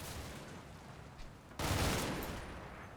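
Small arms fire in the Normandy war game Combat Mission: Battle for Normandy, a dense crackling burst of gunfire that swells suddenly midway and stays loud, heard at moderate distance.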